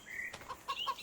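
Chickens on a farm give a few short, high clucks and chirps close by, with a faint rustle of movement between the calls and no talking.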